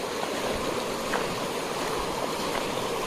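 Stream water rushing steadily as a forest guard prepares to wade across it in Orang National Park, Assam; a continuous broadband wash close by, with no talk.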